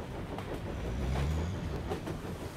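A train rolling along in the video game 39 Steps, a steady low rumble with faint rhythmic clatter running throughout at moderate volume, with no voices.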